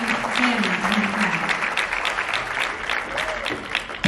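A church congregation breaks into applause during a Spanish-English bilingual sermon, steady dense clapping through the whole stretch with a voice speaking and rising over it.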